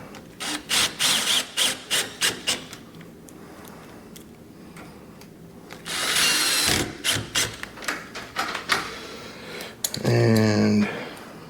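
A power drill drives two screws during apartment maintenance: rapid rhythmic ratcheting clicks in bursts, a longer whirring run midway, then a final buzzing spin, close and moderately loud with no speech.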